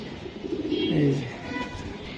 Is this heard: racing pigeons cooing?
yes